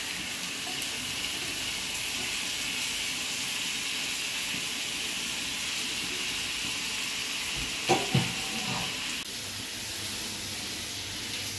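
Mutton goes into a pan of well-fried spice masala and sizzles loudly and steadily, with a brief metallic clatter of stirring partway through.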